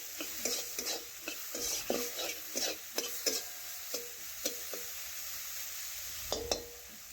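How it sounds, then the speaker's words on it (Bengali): Small soybean chunks tossed and fried with turmeric in a pan, with quiet continuous sizzling under a regular series of spatula scrapes and light clinks against the metal, roughly every half second. "আমি এটাও 10 থেকে 15 সেকেন্ড নাড়াচাড়া করে ভেজে নিয়েছি"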